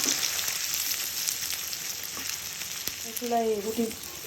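Cut potatoes fry in a pan on a home stove, giving a steady, fairly close hiss of hot oil that runs throughout, with a brief burst of stirring or a voice-like sound near the end.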